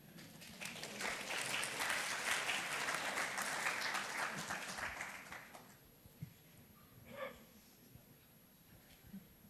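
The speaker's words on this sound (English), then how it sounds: "please give the mic runner a big applause for helping us out" Conference audience at the WorldSkills Croatia 2025 opening plenary clapping for a mic runner, a loud burst of applause that fades out after about five seconds, followed by quiet room noise with a few faint sounds.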